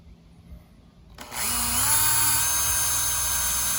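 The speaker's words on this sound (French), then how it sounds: "On va driller parce qu'on n'a pas de vis qui perce le métal." A power drill bores into metal sheet, since no self-drilling screws were on hand; a quiet room gives way at about 1.2 seconds to a loud, steady whine that holds to the end.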